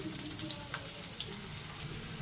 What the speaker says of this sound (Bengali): করলাগুলো লাল লাল করে ভেজে নিয়েছি, তুলে নিয়েছি